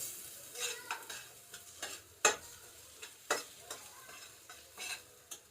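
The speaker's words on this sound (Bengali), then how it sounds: "এই সহযোগে আমাকে এই মশলাটাকে আরেকবার ভেজে নিতে হবে।" Spice masala with cumin, coriander powder and turmeric frying in a pan, a soft sizzle broken by repeated spatula scrapes and stirring knocks at an irregular rhythm.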